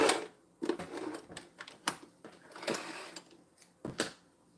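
A small, cheap sewing machine runs in quick irregular bursts of fast stitching, with clattering needle action separated by brief pauses, fairly quiet and close.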